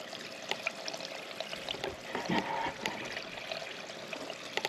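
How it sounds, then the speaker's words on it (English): Water drains out of an IBC water tote being cleaned, a moderately close trickling and splashing outflow with uneven gurgles, no speech. "I'm gonna let it flow out a little bit."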